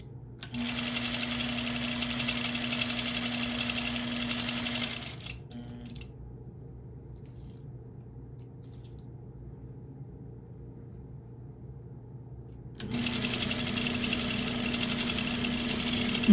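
A sewing machine stitching freehand quilting of flowers and feathers runs in a steady whirring burst, stops for several seconds of near silence, then starts up again close and loud.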